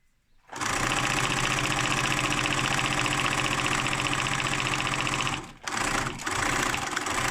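A sewing machine runs steadily and loudly while sewing a securing stitch on fabric bunting, its even motor whir holding for about five seconds before two brief stops and restarts.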